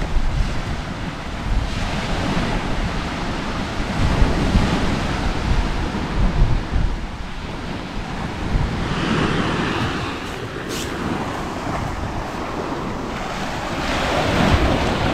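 Sea waves rolling onto a Honduras beach, with continuous loud surf wash and gusting wind buffeting the microphone throughout.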